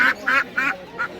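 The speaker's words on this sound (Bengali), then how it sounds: "দাদা হাঁস নিয়ে যাচ্ছে, হাঁস" A duck at a live bird and pigeon market gives four loud, nasal quacks in an uneven rhythm, close by and with no speech over them.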